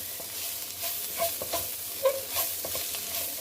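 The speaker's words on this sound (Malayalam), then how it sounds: "നന്നായിട്ടൊന്ന് ഇളക്കി കൊടുക്കുക" A spoon stirs masala and cumin in a hot pan for chicken stew, with a steady broadband sizzle and several soft scraping strokes, close and moderately loud, with no talking.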